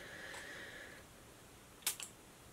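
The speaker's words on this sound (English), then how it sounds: "Let's see how the bottle sprays as well, because that's very important." A fragrance bottle sprays onto a wrist in two quick bursts close up, a sharp hiss followed by a shorter second puff, with a faint high tone and quiet room noise before them.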